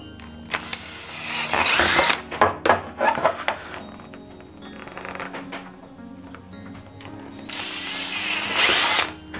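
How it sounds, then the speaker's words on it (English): A power drill whines in bursts as it bores holes for rivets in a stormtrooper armour torso, loud and close, with clatter and handling noise between the runs. "That's where the holes are going to go. I'm going to drill them now."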